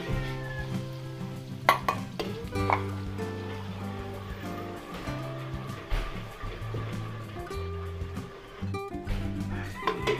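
Garlic frying in cooking oil in a home kitchen for Filipino chop suey, with a busy mix of sizzling, stirring and utensil clatter running steadily throughout, and faint background noise.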